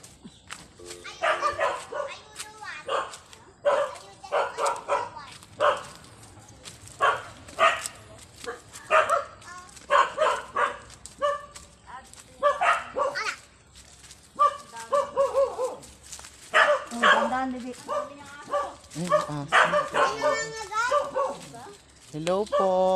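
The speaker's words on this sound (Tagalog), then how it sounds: "ano yung aso mo?" A dog barks in short, scattered yips and woofs during a hillside trek, mixed in among frequent nearby conversation in Filipino and faint background activity.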